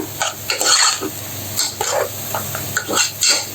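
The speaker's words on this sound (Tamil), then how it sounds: "2 செகண்ட் அந்த புளி பச்சை வாடை போக வதங்கிக்கலாம்" Something sizzles in a hot pan while a spoon scrapes and stirs in quick, uneven strokes, close up with no voices.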